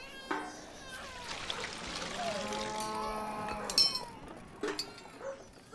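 Cows mooing in a farmyard pen, a few drawn-out low calls from moderately near animals, with faint trickling water and farm ambience in the background.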